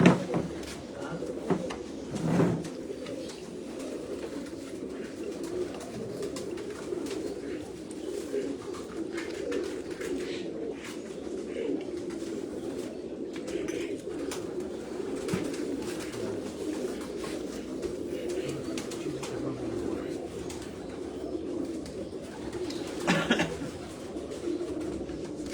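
A flock of pigeons on a rooftop keeps up continuous low cooing for the whole stretch, with a few soft knocks and faint voices now and then.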